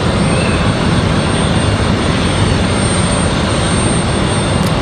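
An American Airlines A321 airliner at Raleigh-Durham airport on a stormy evening, a loud, continuous broadband jet roar that holds steady and close throughout, with no talk.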